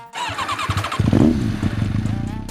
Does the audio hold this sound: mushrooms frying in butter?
no